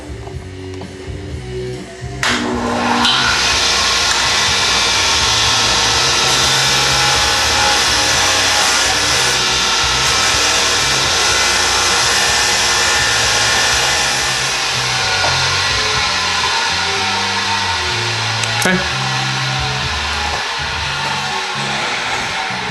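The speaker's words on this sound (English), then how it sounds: "Just gonna use a little wire wheel." A small wire wheel spinning against the steel action arms of a Remington Model 742 Woodsmaster .30-06 rifle, a steady loud abrasive whir and grind that runs continuously for over twenty seconds.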